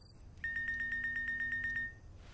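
An electronic phone ringtone trills at night in a quick run of about a dozen evenly spaced beeps, fairly close and clear against a quiet background.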